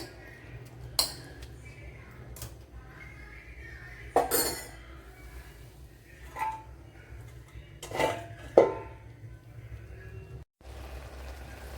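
A lid is placed on a cooking pot of soya chunk curry, giving a few separate metallic clinks and clatters spread over a quiet stretch with a low steady hum underneath.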